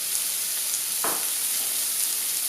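Vegetables sweat and soften in a hot pan with a steady, gentle sizzle and hiss, broken once by a brief stir or clink, with no voices.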